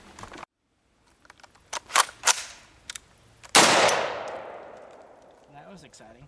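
A single loud, close rifle shot from an IWI Tavor or Steyr AUG cracks outdoors and rings out in a long decaying echo, preceded by a few sharp clicks and handling clanks.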